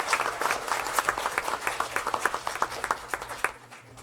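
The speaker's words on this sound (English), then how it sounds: "how about one more round of applause for the Wilder Wolves?" A school board meeting crowd in Alvin claps steadily for the Wilder Wolves, a dense round of applause at moderate level that fades out at the end, with no talking over it.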